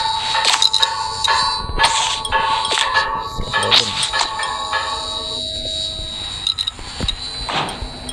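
Repeated bright electronic notification chimes from a phone during a multiplayer horror game session set in an asylum, several short tonal dings over game audio and background noise.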